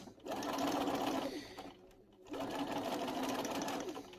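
A sewing machine fitted with a 1/4 inch foot stitches quilt fabric in two runs of rapid, steady mechanical chatter split by a brief pause, close and moderately loud with no talking.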